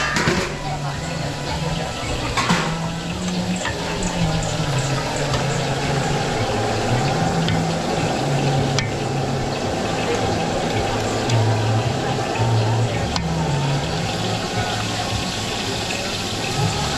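Water pours steadily into a cooking pot for pork kaldereta made with pork ribs, a continuous loud rushing splash lasting throughout, with background kitchen noise and people talking underneath.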